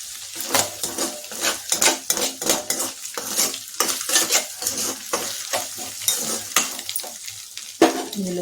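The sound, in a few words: stirring fried noodle mixture in a pan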